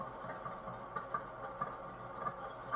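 A Farmer H / Super H tractor engine idles in Farming Simulator 22, a steady mid-pitched rumble with a regular repeating pulse, moderately close and on its own without talking.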